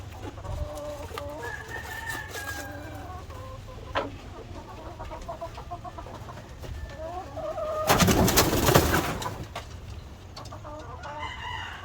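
Chickens cluck and a rooster crows among other birds in a breeding pen, with a burst of flapping and commotion near the middle; steady farmyard ambience throughout.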